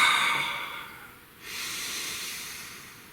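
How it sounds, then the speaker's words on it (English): A single deep breath, a long airy inhale that dips and then turns into a steady breathy exhale, close and fairly soft, with no other sound around it. "Please take a nice deep breath."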